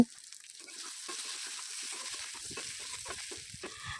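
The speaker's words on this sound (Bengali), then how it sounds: "যে পেস্ট মশলাটি আমরা বানিয়েছিলাম সেটা দিয়ে দেব তারপর ভালো করে ভেজে নেব" Spice paste for a kuche fish curry frying in a pan makes a continuous, close crackling sizzle with brief scraping stirs, and no voices.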